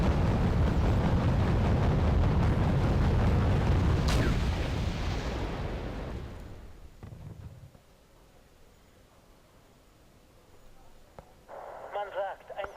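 Cannon fire and explosions in a video game battle with tanks, autocannons and missiles: a loud rumbling barrage that fades into quieter scattered impacts and distant noise near the end.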